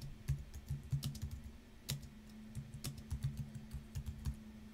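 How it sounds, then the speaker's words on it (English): Steady typing on a computer keyboard while entering a heading in a desktop publishing program, with crisp, close key clicks in an uneven rhythm and a few sharper taps standing out, no voice over it. "Let's type in a heading."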